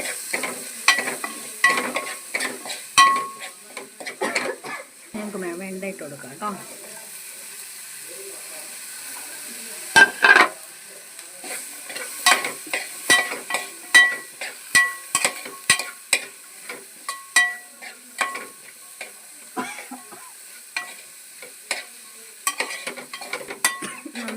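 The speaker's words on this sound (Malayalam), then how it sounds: "ആവശ്യത്തിന് നന്നായിട്ട് മിക്സ് ചെയ്ത് കൊടുക്കാം" A spoon scrapes and clatters through a sizzling okra dish in a hot pan, irregular stirring strokes repeating with pauses, close and alone against a soft frying hiss.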